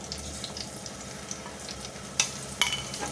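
Cumin, onion, red chilli and ginger-garlic paste sizzle and crackle steadily in hot oil while being stirred, with two brief louder clatters near the end and no talking.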